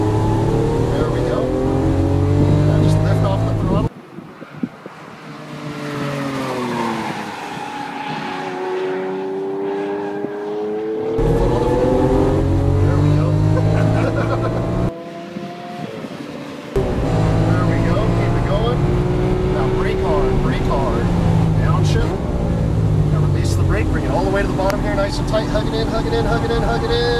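A Lamborghini Aventador on a Las Vegas race track roars loudly as it accelerates, its engine pitch rising through repeated gear sweeps with brief dips between them, while an instructor talks over the engine.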